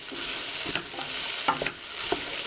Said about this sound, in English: I am going to be stirring it up.